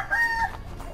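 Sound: black mamba chicken clucking

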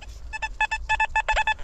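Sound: metal detector signal tone while treasure hunting

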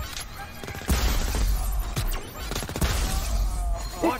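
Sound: enemy gunfire in the video game Crackdown 3

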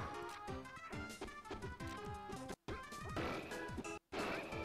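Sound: forward smash hits in Super Smash Bros video game

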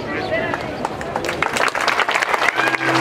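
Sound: applause

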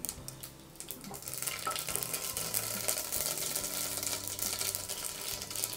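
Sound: mustard seeds spluttering in hot oil

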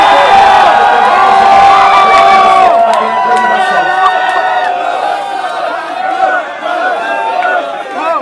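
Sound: crowd cheering at a freestyle rap battle

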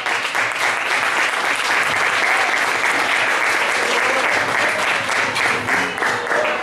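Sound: audience applause at Neapolitan music festival

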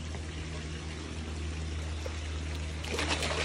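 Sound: water pouring from a pool autofill

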